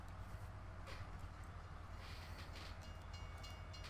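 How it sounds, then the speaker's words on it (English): A train rumbles along in the Farming Simulator 17 Cherry Hills map, a steady low mechanical drone with faint rhythmic rail clatter and hiss throughout, fairly quiet and with no talking. "Oh, train. Did you hear that?"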